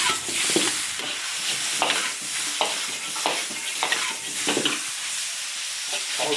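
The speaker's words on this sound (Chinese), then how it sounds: "爆炒一下，可以起锅了。" Cured pork and fish mint stir-fried in an iron wok for a Sichuan-style dish give a steady, close sizzle, broken by repeated scraping stirs throughout, with no talking.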